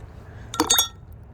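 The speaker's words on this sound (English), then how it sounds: "Next, what you're going to do is you're going to stir" A spoon clinks briefly against a glass while stirring liquid, giving a quick pair of bright, close taps in an otherwise quiet moment.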